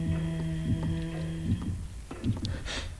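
A heartbeat in the video game Little Nightmares: slow, muffled low thumps pulsing at a steady rhythm beneath a droning tonal hum, with no voices.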